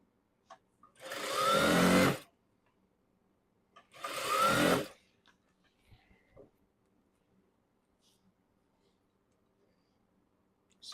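A sewing machine stitches the hem of a stretch skirt in two loud whirring bursts of about a second each, separated by a pause. Faint clicks and small handling noises follow in the quiet.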